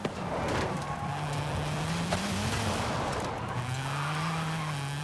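A Mazda RX-7 driven in Forza Horizon 5, engine droning steadily with pitch shifts between gears and tire squeal during drifting, continuous and fairly loud with no talk.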